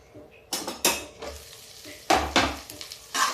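A spoon scrapes and stirs rice mixed with vegetables in a frying pan, giving several loud, close bursts of clatter and sizzle at an uneven pace, with no voices.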